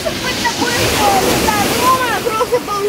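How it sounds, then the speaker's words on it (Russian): Stormy Black Sea waves crash onto a Crimean beach near Alushta, a loud continuous roar of surf and wind with overlapping voices and children chattering. "Вот эта стихия разыгралась. Смотрите, вот до сюда добивает волна."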